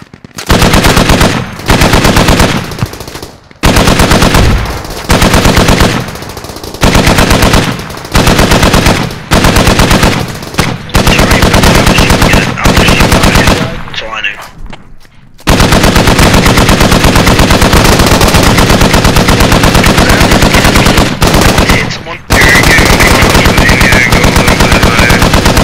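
A .50 cal machine gun in the game Squad fires in long, loud, rapid bursts separated by short silences. Near the middle there is a longer pause, and then sustained fire resumes.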